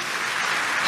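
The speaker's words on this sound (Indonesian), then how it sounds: "Tepuk tangan sekali lagi yang paling meriah buat Tuhan." A church congregation applauds during a sermon, giving a dense, steady wash of clapping that swells slightly toward the end.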